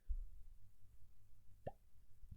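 A cork pulled from a bottle of Balcones Texas Pot Still bourbon gives one short, sharp pop near the end, followed by a faint second knock, all close and clear over quiet background rumble.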